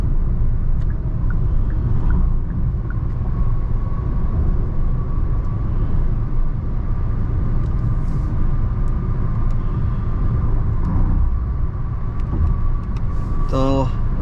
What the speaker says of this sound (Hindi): तो 90 पे कैबिन का माहौल बहुत सही है